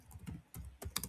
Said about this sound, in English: Okay, so I'm going to type here